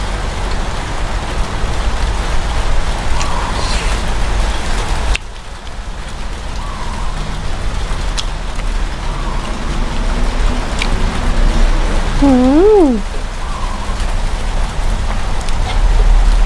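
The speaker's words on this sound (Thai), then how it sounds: "ฝนก็ตก" Steady, close rain pours down in a continuous hiss, with one brief dip in intensity and a faint warbling tone partway through, and no talking.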